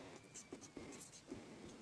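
A pen scratches across paper as an answer to a class 9 math exercise is written out, soft and close, with irregular short strokes and taps.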